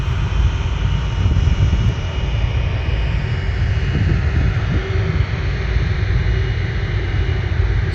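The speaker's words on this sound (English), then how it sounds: "So let's see the Etihad 777 do its takeoff roll, shall we?" A deep, continuous roar from the engines of an Etihad Boeing 777 on its takeoff roll at Manchester Airport, a loud, steady broadband rumble heard from a distance without pause.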